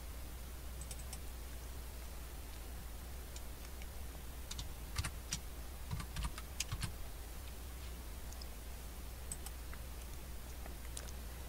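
Code is typed on a computer keyboard, a steady run of light clicking keystrokes over a constant low hum, close and quiet, with no talking.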